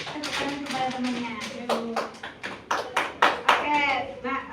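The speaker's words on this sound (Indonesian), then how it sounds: "Kasih tepuk tangan kepada temannya." Students in a classroom give their classmates a short round of applause during a math lesson, a scattered burst of claps of uneven rhythm mixed with a voice talking and children's voices.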